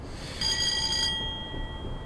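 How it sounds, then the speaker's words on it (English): Old-fashioned AWS warning bell in a Class 40 locomotive cab in Train Simulator 2015, a bright sustained ring sounding for under a second over a low rumble of the train running. "I love the nice little bells, the old kind of fashioned bells with the AWS"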